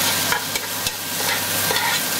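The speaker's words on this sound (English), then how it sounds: "Let's give that a nice stir." Tomatoes stirred into browned onions in a hot pan give a steady sizzle with several soft scraping knocks from the spoon, close and alone.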